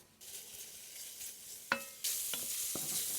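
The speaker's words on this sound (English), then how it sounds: "I'm going to put this into the pot, and I want to render it out kind of slowly to get the fat out" Homemade smoked bacon renders in a pot, giving a steady sizzling hiss that swells louder partway through, with a few sharp clinks of a utensil against the pot and no voices.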